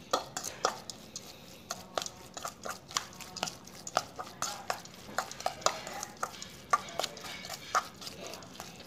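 Roasted bran fishing bait for rohu and carp being mixed by hand with butter; a quick, uneven run of close, crisp scraping and rubbing strokes, with no talking.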